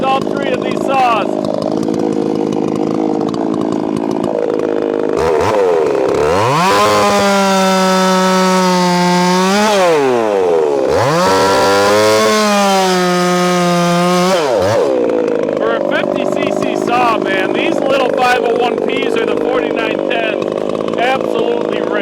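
A Husqvarna 564XP and other 50-60cc chainsaws cut cookies from a log in timed cuts, two loud sustained full-throttle bursts that bog and rise, framed by rough idling and talk.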